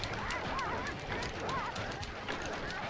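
Chickens and roosters cluck and squawk in short bursts amid quick pattering footsteps, all set against a busy background, in the video game Sly Cooper and the Thievius Raccoonus.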